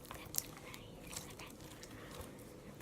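Slime being crunched and poked close up, soft crackly crunches and a few sharp clicks, faint and intimate with little else around.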